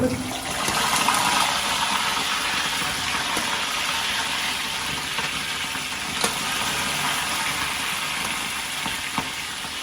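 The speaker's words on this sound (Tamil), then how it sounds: "தண்ணீர்" Water runs steadily with a dense, even rushing hiss that lasts the whole span and carries a few faint clicks, no voices over it.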